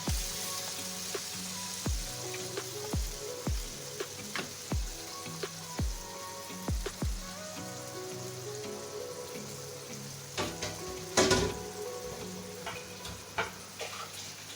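Ground tomato paste sizzling steadily in a hot pan for a chicken curry, a continuous close fry hiss broken by repeated spoon clinks and scrapes against the pan, with no talking.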